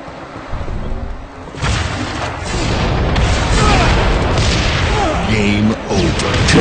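Rocket explosions in Halo: Reach multiplayer rumble loud and dense through a continuous roar of game battle noise, with a voice talking over it.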